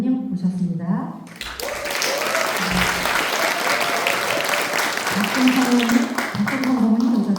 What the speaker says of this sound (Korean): 큰 박수를 좀 맞춰주시기 바라겠습니다